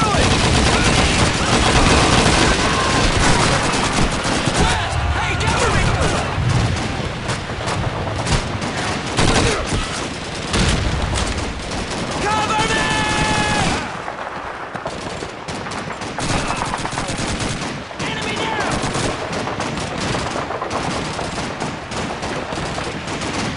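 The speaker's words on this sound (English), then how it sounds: "Machine guns up in the window of the farmhouse!" Sustained machine gun fire rattles from a farmhouse window in the Call of Duty 3 World War II game, loud bursts of dense overlapping gunfire under occasional shouted voices, continuing almost without pause.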